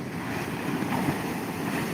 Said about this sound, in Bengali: দেখো বন্ধুরা ঢেউটা দেখো ঢেউটা দেখো